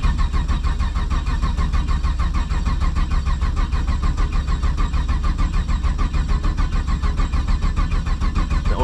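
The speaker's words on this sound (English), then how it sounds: "this is definitely a cold start" A cold Ford Mustang engine cranks on thick oil at about 45 degrees, with a steady rapid starter churn running the whole time, loud and close, with no talk.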